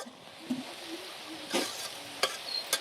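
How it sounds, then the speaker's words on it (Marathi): Black ghevda beans sautéed with turmeric and salt in a pan, a faint steady sizzle with a few soft stirring knocks and scrapes. "हळद मीठ टाकून चांगलं परतून घेतलं"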